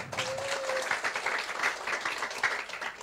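Crowd applause at a business owners' orientation, a fairly quiet, steady patter of many hands clapping with a brief tonal whistle-like sound near the start.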